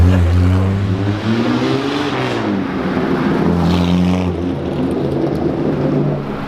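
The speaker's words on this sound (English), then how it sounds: "The car is so loud and so fast" A Salvadori Jaguar XK120 classic sports car cruising through London, its loud engine droning steadily with rising and falling pitch as it shifts and accelerates, close and continuous with no talk.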